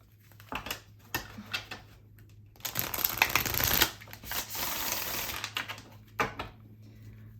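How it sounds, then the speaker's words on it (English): Repeated riffling and crisp snapping of a deck of tarot-style cards being shuffled, close up, in several bursts with short pauses between, no voices. "I'm going to shuffle it again."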